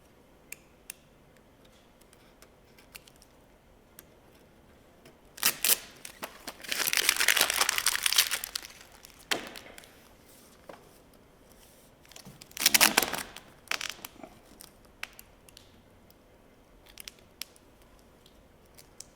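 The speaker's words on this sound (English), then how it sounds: "So cutting kind of just by feel now." A blade cuts and trims VVivid Ultimate vinyl tint film on a car headlight, producing faint crinkling and scraping in two short bursts amid quiet ticks.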